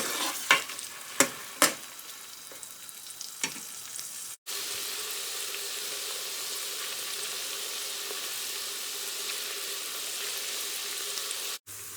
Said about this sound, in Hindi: ओनियन को लाइट ब्राउन होने तक कुक करेंगे। ओनियन को कुक करते हुए फ्लेम मीडियम ही रखना है।